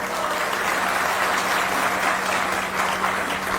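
Dense crowd applause at a political rally for the BSP in Chhattisgarh, a steady loud wash of clapping that fills the whole stretch without a break.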